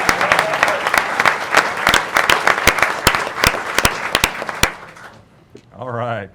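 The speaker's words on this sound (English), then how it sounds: "You get a round of applause." An audience claps in a sustained round of applause at a school district board meeting, with dense, uneven hand claps that fade out before a voice starts speaking.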